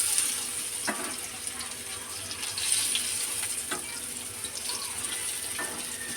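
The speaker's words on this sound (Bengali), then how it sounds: "দেখছেন লাল লাল করে পুরো ভাজা হয়ে গেছে।" Lentil fritters with prawns fry in oil, making a continuous, even hiss of bubbling oil with a few faint clicks on top and no voices.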